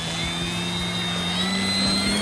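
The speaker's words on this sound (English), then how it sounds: "Plane's flying well" A small RC model plane drones steadily overhead with a constant buzzing motor whine, fairly close and without speech, on a misty day.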